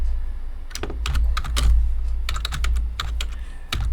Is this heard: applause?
no